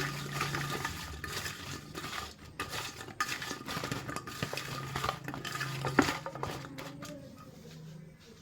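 Cut vegetables being mixed by hand with salt and turmeric powder, producing soft, close rustling and squishing with scattered light clicks against a bowl, fairly quiet and without talk.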